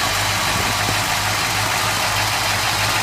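A Ford engine of a little over 300 cubic inches, bored .060 over with a Scandinavian E4 cam and an original Autolite 4100 four-barrel carburetor, idles with a steady, rumbling low drone throughout, close and loud, with no talking.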